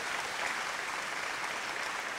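Talent show audience applauds a contestant with steady, dense clapping and a bright, even wash of sound throughout, with no talk.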